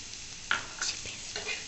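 Ginger, garlic and grated coconut being sautéed with bitter gourd pieces in a pan, a soft steady sizzle with a few quiet stirring scrapes, faint and close, no voices.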